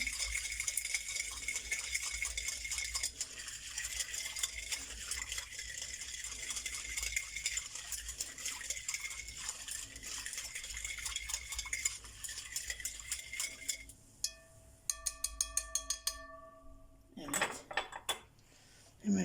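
A spoon stirs sugar and dry yeast in a bowl, scraping and clinking continuously against the dish, with a few sharper metallic taps near the end.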